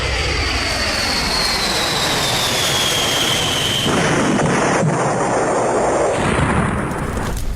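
A loud, steady jet engine roar from an Air India airplane taking off from runway 23, a high whine gliding downward over a constant rumbling blast.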